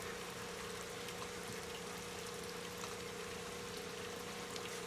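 Koi pond water being poured and mixed in a bowl to even out temperatures, a steady, soft trickling and pouring wash that runs continuously and fairly quietly with no talk.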